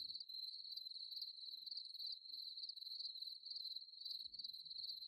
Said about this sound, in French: Le bruissement lancinant et métallique des régiments de sauterelles, de grillons, de locustes et autres courtières, disséminés par myriades sur les herbes de la prairie.